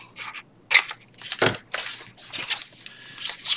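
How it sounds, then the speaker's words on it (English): A dried flower insert piece being snipped off, with several crisp, close cuts and crunches, one louder snap near the middle, alone without talk. "Let's cut that off."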